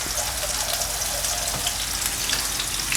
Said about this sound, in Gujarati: બધી મેગી ઉપર પાણી હોવું જોઈએ એમ.